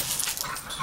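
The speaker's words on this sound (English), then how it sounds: "One dog, two dogs, three dogs, four dogs." A short, close burst of dog yips and whimpers from dogs playing together at a daycare.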